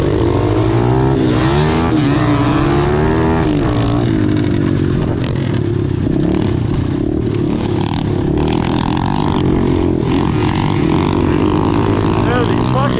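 An Apollo DBX15 Chinese pit bike engine drones loud and continuous while being ridden, its pitch rising and falling as the throttle changes, with wind buffeting the microphone and a voice briefly heard.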